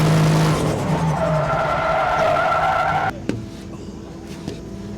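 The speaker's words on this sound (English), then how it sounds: "Let's get on the track and let's see what all these skids are all about" A 4.0 V8 Nissan 200SX drift car skids on a track, its tires squealing loudly over a revving engine for about three seconds before the screech cuts off and the engine drops to a lower, quieter idle with a few thumps.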